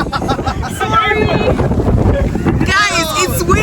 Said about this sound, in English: Guys, it's windy out here.